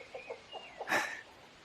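Chickens clucking near a chicken coop in an old rural setting, a few soft short clucks followed by one louder squawking burst, then quiet.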